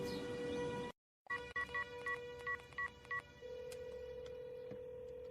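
A telephone number is dialed as a series of about eight distinct touch-tone beeps in quick, uneven rhythm. A steady dial tone comes before and after them, with a brief silence just before the dialing. The setting is a French-dubbed Disney animated film.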